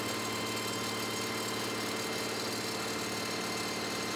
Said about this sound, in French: nous passons le tracteur au banc pour voir sa puissance réelle